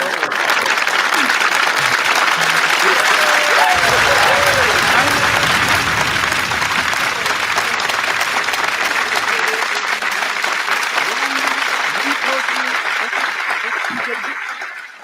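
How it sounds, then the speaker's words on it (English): A live audience breaks into loud, sustained applause that fills the whole stretch, with a chuckle and crowd noise mixed in and talk beneath it midway before the clapping tapers off at the end. "big round of applause"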